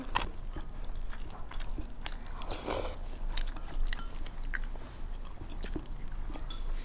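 Someone chews crunchy Korean pickled cucumber (oiji) outdoors near a field, with repeated close, wet crunching bites and chewing in an irregular rhythm, fairly quiet throughout.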